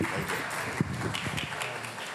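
A hackathon audience at a summit gives a round of applause, a continuous, moderately loud patter of many hands with some murmured voices mixed in.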